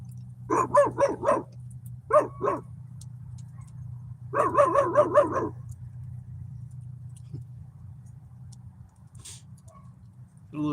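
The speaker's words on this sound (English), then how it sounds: "I got every dog barking now." Dogs bark in quick bursts of four to five yaps, a few separate volleys at moderate distance over a steady low engine-like hum, then fall quiet.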